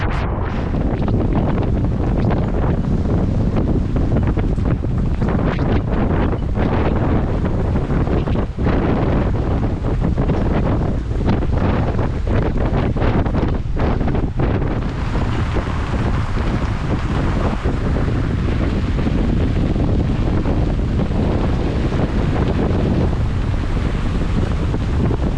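Strong, continuous wind roars around a sailboat at anchor off Fort Pierce during a heavy squall, loud and unbroken with gusting buffets on the microphone throughout.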